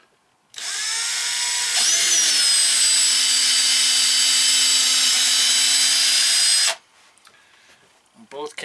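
A power drill boring a pilot hole into a cabinet during a camper van build: a loud, steady high-pitched whine for about six seconds, starting and stopping sharply, with speech at the end.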